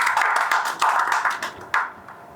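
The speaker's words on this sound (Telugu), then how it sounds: "మరొకసారి మీరు చప్పట్లు కొట్టాలి." Audience applause at an award ceremony, a burst of clapping hands with a few sharper accents, fairly close and steady before fading out after about two seconds.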